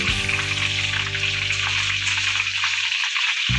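Slices of breadfruit sizzle steadily in hot oil during a second frying, a dense, loud, even crackle with no voices.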